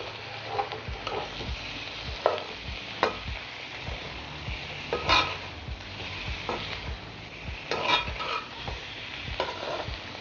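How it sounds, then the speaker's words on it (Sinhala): Fried potato pieces being stirred gently in a pot with a spoon, soft scraping strokes over a steady low sizzle, close and fairly quiet, with no voices. "කෑලි පොඩි වෙන්නේ නැති වෙන්න පරිස්සමින් මෙහෙම කලවම් කරන්න"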